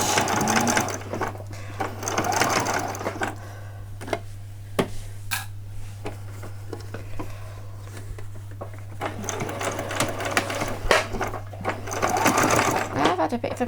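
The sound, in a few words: sewing machine stitching seam of doll jeans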